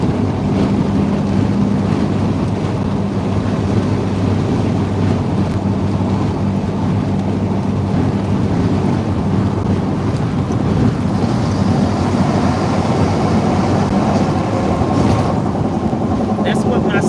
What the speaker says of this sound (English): see it's windy out there. Y'all hear that wind?